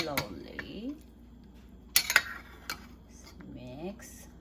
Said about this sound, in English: after half an hour, you can mix slowly